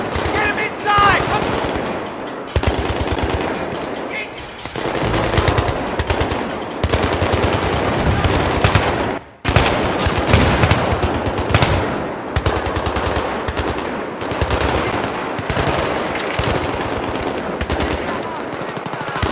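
Dense gunfire in Battlefield 3 rattles almost continuously, with rapid machine-gun bursts and heavy single shots, loud and close, briefly dropping out before resuming, with shouted voices buried in the din.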